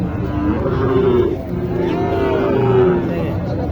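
Cattle moo loudly and close by at a livestock market, two long drawn-out lows one after the other, over a faint murmur in the background.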